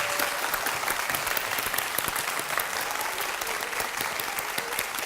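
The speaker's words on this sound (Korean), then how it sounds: "오늘 아이들의 또 정성 어린 작품을 멋지게 잘 연주해 주신 우리 연주자 선생님들께도 큰 박수 부탁드리겠습니다" Loud, sustained applause from a concert audience for the teacher performers who played children's compositions at a young composers' recital in Uijeongbu, a thick continuous patter with individual claps standing out.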